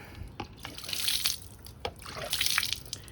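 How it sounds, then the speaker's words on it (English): Water trickles and splashes in short uneven bursts while rinsing Simple Green cleaner off the brake pistons of a ZeroSR caliper, close and fairly quiet. "some water, rinse it out."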